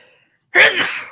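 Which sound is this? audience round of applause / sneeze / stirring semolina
sneeze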